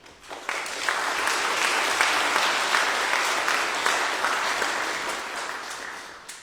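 A church congregation at a Sunday service bursts into sustained, dense applause that holds steady for several seconds before tapering off, filling an indoor hall.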